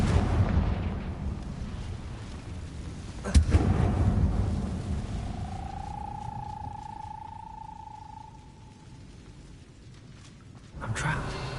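The Confringo blasting curse goes off in Hogwarts Legacy with a heavy explosive boom partway through, followed by a rumbling decay and a rising magical whine, over a dull game ambience.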